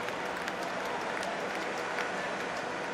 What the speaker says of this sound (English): And all of Lord's there applauded Morgan to the crease.